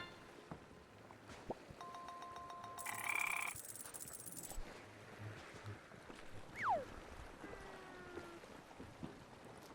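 Frog croaking in a video game, a few scattered calls over a steady ambient bed alongside brief chimes and a ringing tone, moderately faint with no talk.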